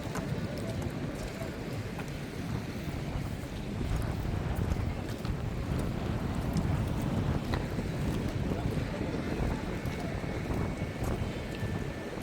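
Strong wind at Nagoa beach buffets the microphone in a constant low roar, with the sea faintly underneath and no clear speech.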